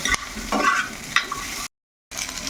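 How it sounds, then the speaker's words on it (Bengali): About a spoonful of peanuts fry lightly in a pan over low heat, with a soft sizzle and scraping, clicking stirs up close, broken by a brief silent gap. "তো এখন এইগুলো একটু হালকাভাবে আঁচেতে মিনিট 5 ধরে এইভাবে ভেজে নেব।"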